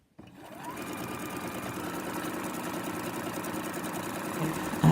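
Sewing machine quilting a tee shirt quilt, running in one steady, fast continuous stitching drone at close range with no pauses, alone without talk.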